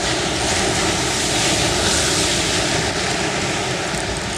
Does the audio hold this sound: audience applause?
no